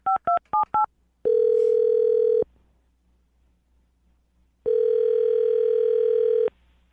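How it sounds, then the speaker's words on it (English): A rapid burst of touch-tone dialing beeps comes first. Then a steady telephone tone sounds twice in long, evenly spaced stretches with silence between, clear and alone. "I'm going to dial this phone number right now"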